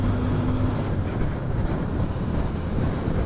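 A Yamaha V Star 250 motorcycle pulls away under throttle, its small engine droning steadily beneath heavy wind rush that dominates the sound throughout.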